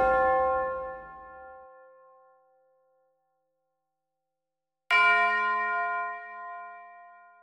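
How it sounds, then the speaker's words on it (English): A tubular bell sample rings out in a dark trap-style beat built in FL Studio 21, two separate bright metallic strikes, each decaying slowly with a short silence between them. "try throwing a tubular bell on it, a deep piano, like a stab, a hit, or just some type of sound effect in the beginning"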